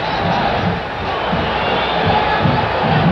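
A packed boxing arena crowd of about 16,000 at a 1983 fight roars steadily and loudly throughout, a dense sustained wall of cheering and shouting with no individual voices standing out.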